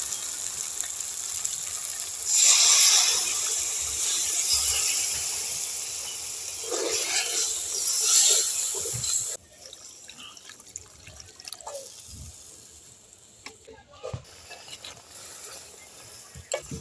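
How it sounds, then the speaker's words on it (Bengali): Water is poured into frying masala in a pan for a prawn curry with a loud splashing pour for several seconds, then the sound drops to a quieter sizzle with faint drips and clinks. "এবার জল দিয়ে দেব।"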